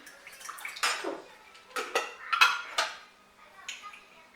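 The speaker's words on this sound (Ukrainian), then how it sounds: "ретельно перетираю дріжджі с водой и с цукром" A spoon scrapes and clinks around a bowl in irregular strokes, close by, while yeast, sugar and water are ground together into a wet mix.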